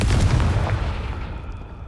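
A Confringo spell explosion in the video game Hogwarts Legacy: a loud, deep boom that rolls off into a fading rumble within two seconds.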